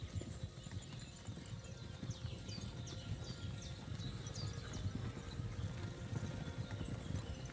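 Horse hooves clip-clopping during first-person riding in the video game Kingdom Come Deliverance 2, a soft continuous run of hoofbeats under a steady ambient bed with faint birdsong above.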